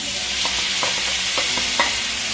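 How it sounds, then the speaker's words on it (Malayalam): Onion and tomato sauté in a pan over a medium flame for a vegetable masala, a steady close sizzle broken by several sharp clicks of a spoon stirring against the pan. "ഇത് നല്ലതുപോലെ വഴറ്റിയെടുക്കണം."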